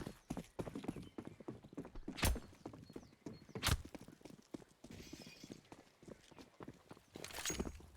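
Players' footsteps climbing a staircase in Counter-Strike, a steady series of soft, close thuds with a few louder impacts.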